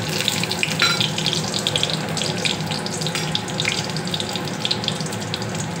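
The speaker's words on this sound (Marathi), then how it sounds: "तेल गरम झालेलं आहे, त्यात मी टाकतो जिरा, हे खडे मसाले आहेत ते" Cumin seeds and whole spices sizzle in hot oil for a paneer gravy, giving a steady, loud hiss and crackle close to the pan, unbroken through the whole stretch.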